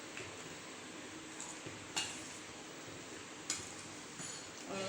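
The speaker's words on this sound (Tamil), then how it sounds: "இதிலே கொதிக்குது பாருங்கள்" Green chilli sambar with coconut boils in a pot, giving a steady bubbling, simmering hiss close by, with a couple of faint metallic clinks and no talking.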